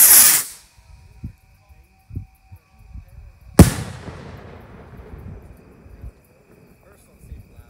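A Black Ops firework at a pyro club, with an opening hissing whoosh, then a single sharp loud bang that rings and crackles away into quiet outdoor background with faint thumps.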